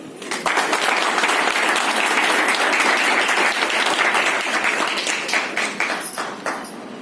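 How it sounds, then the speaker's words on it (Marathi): Sustained applause from an audience at a women's business meeting in Badlapur, dense clapping that starts abruptly, holds steady for several seconds and thins out into scattered claps at the end. "मग टाळ्या कशा व्हायला पाहिजे?"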